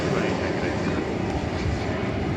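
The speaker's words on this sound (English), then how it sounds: "It's an Airbus" An American Airlines Airbus A321 arriving from Palm Springs at DFW Airport passes as a dense, continuous engine rumble and hiss, loud and near throughout the short stretch.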